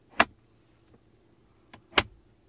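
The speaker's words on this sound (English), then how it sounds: "the middle armrest here opens really nice, and listen to the clicking sound" The center armrest in a Mazda CX-60 cabin opens with two crisp, close clicks about two seconds apart, the second preceded by a faint softer tick, in an otherwise quiet interior.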